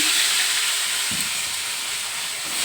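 Semolina cooking in a pan at home, giving a steady close sizzling hiss with a brief soft stir or scrape partway through and no voices.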